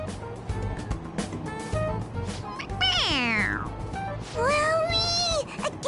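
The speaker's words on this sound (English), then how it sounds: "It meows when you press on its head." A toy cat from the game Persona 5 Royal gives two bright, rising-and-falling meows when pressed, each clear and close, over quiet game background sounds.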